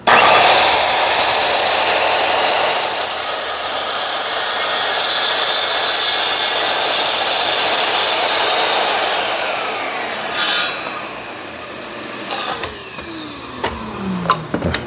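A power tool cuts through pallet wood for jack-o'-lantern crafts, a loud, close, sustained whine that runs for several seconds, then winds down with a few brief bursts and a falling spin-down.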